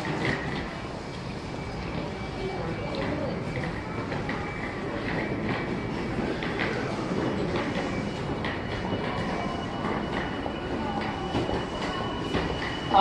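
Steady rumble of an Odakyu Romancecar EXE train departing Sagami-Ono station, with rolling wheel noise and faint squeals, continuous and fairly close, no talk.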